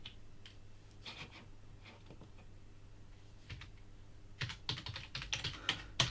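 Close typing on a computer keyboard enters terminal commands, with a faint patter of keystrokes early on, then a louder, quicker run of clacking taps near the end, no speech.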